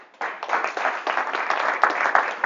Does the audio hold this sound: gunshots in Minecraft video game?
no